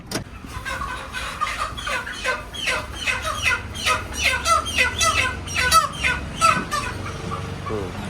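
Chickens squawk and cluck repeatedly in a busy, overlapping chorus at close range, over a low rumble of traffic.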